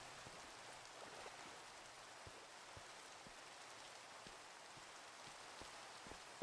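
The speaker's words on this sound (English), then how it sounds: "I'm honestly really annoyed that we got the fucking rain to start." Rain falls steadily in Minecraft, a soft, even hiss with faint scattered drop patter throughout, ending on a brief louder burst.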